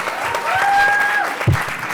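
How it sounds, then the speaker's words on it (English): Audience applause for a community education policy panel, a steady wash of clapping from a crowd lasting about two seconds, with a brief thump near the end. "Give yourselves a round of applause."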